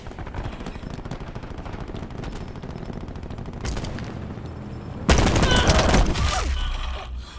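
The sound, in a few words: gunfire in video game Black Ops 4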